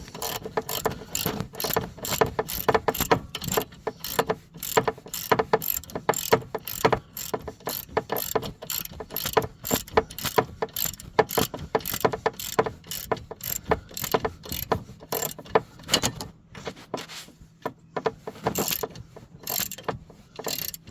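A ratchet wrench clicks in rapid, steady bursts while tightening the mounting screw on a burned-out traction motor, close and loud with brief pauses between strokes and no talking.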